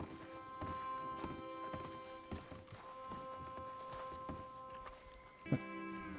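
Steady clip-clop of horse hooves walking at an even pace in the video game Red Dead Redemption 2, with a sharp thunk near the end over a faint background hum.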